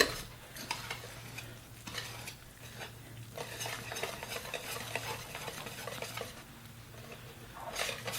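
A thick Coca-Cola cake mixture is stirred in a bowl, giving soft, repeated scraping strokes at a moderate, uneven pace, fairly quiet and close, with a low steady hum behind and no talk.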